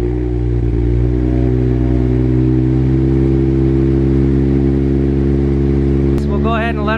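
A Toyota JZX100 engine idles steadily and loudly after starting, a constant low droning hum with a brief clatter near the end and a voice speaking over it.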